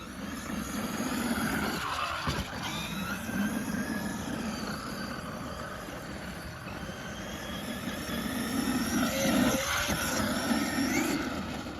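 A Traxxas E-Revo 2.0 RC car drives with a steady electric motor whine and tire rumble, its pitch rising and falling with the throttle and swelling toward the end.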